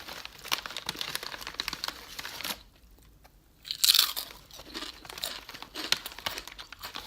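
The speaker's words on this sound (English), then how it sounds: "we're not playing around with the crunchy aspect of this. This is crunchy." Kettle-cooked Ruffles Double Crunch Zesty Cheddar potato chips crunching loudly and steadily between close bites, with a brief quiet pause midway before another sharp burst of crunching.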